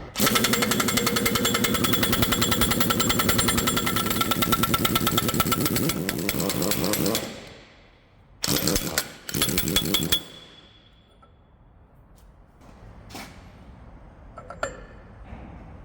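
A 1-inch drive, 2,500-pound impact wrench cracking a nut on a hydraulic cylinder from a CAT 24M motor grader, heard as a loud, sustained hammering rattle for several seconds, then two short bursts, then quiet shop clinks.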